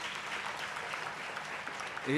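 Applause from an audience at a college launch event, a soft, even spread of clapping through a hall, with a speaking voice rising over it near the end.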